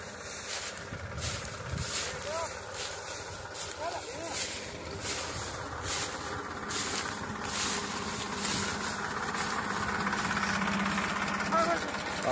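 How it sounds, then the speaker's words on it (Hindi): A tractor engine running at a sugarcane field, a continuous rumbling drone with uneven knocking pulses, fairly close, under the voices of people talking. "तो ट्रैक्टर लगा रहा"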